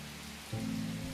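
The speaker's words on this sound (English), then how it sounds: "the sounds of rain outside begin to lull you to sleep." Steady rain falls outside a forest cottage, a continuous wash of patter on surfaces that swells slightly louder halfway through, with a low hum beneath and no voices.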